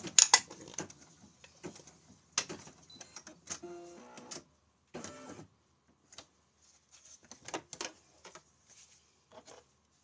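A Brother SE625 embroidery machine fitted with organ needles stitches a felt design, giving intermittent bursts of quick rattling, ticking mechanical clatter separated by short pauses, close and moderately loud.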